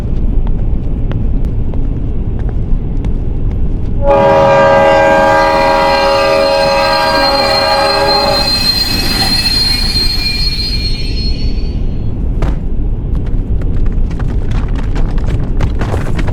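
A Shinkansen bullet train heard from the conductor's room rumbles loudly, and partway through a high, shrill wheel squeal rises and holds for several seconds before fading back into the continuous running roar.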